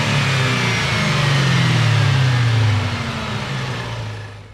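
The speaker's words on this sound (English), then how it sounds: "here's some intake noises" Car engine fitted with an aftermarket cold air intake, revving up steadily with a loud rising intake roar, then easing off and settling lower toward the end, with no talk.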